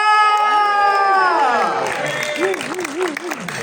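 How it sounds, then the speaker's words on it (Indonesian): A crowd at a film press conference claps and cheers in welcome, with lively whoops and shouting voices rising and falling over the clapping, mid-range and fairly loud. "Tepuk tangan untuk Mas Anggi Umbara."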